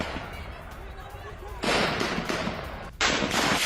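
Gunfire from security forces at a street protest in Iran, heard in news footage: a muffled crowd background, then two sudden loud bursts of sharp, dense shots near the middle and end, with talk in the background.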